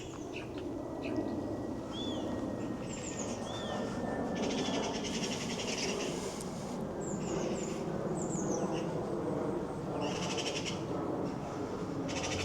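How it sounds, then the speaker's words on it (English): High, thin peeping calls of baby ducklings come in short bursts over a steady low background hum, repeated several times. "Couple of baby ducklings."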